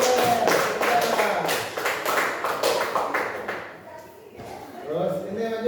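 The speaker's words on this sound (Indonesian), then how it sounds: "Ya, tepuk tangan dulu." A class claps together in quick, fairly even rhythmic beats, close and lively, fading out partway through as voices talk over and after it.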